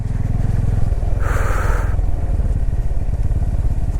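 A Bajaj Pulsar N250 motorcycle crawls through deep mud off-road, its engine chugging steadily and loud and close throughout, with a brief clattering rise partway through.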